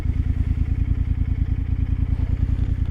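Close-up motorcycle engine drones steadily while riding in cold weather, a loud low rumble with rapid firing pulses and a slight throttle wobble, with no talking.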